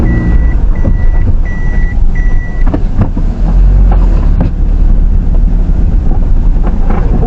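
A vehicle's reversing warning system gives a few evenly spaced, fairly clear beeps over steady wind buffeting and engine rumble, then the beeping stops and only the rumbling, windy noise continues.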